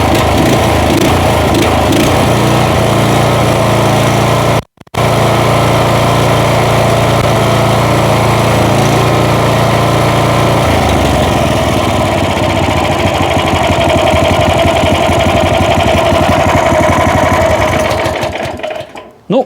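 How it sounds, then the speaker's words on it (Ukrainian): A small petrol engine idles with a fast, buzzing rattle, pausing for a moment before running on steadily and then dying away at the end. "Послухайте, як працює двигун. Це холості оберти."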